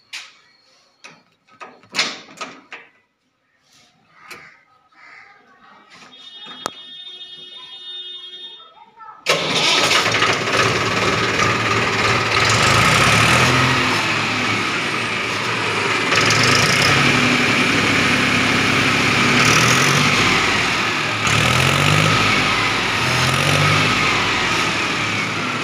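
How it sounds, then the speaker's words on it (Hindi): A 1995-model Mahindra 265 DI tractor with a new battery cranks over and catches, then settles into a loud, steady diesel idle that runs unbroken close by after a few seconds of quiet clatter. "अभी आपको ट्रैक्टर को स्टार्ट करके आवाज सुनवाते हैं।"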